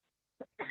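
A person with a lingering cough coughs twice at a workshop meeting, a faint short hack followed by a louder, fuller cough, close to the microphone.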